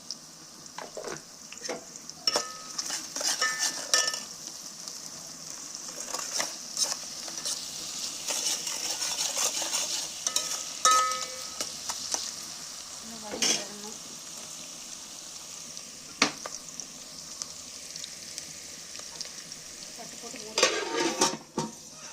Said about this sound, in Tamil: பிரியாணி மசாலா போட்டதுக்கப்புறம் ஆனியன் போட்டிருக்கோம் அது நல்லா வதங்கட்டும்